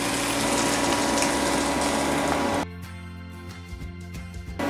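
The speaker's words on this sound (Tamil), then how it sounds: "இந்த ஜார்லேயே தேவையான அளவு தண்ணி விட்டு சேர்த்துக்கிறேன்." Water gushes from a blender jar into a pan of cauliflower kurma as a loud, steady pour for a few seconds, then stops, leaving quiet clinks and bubbling.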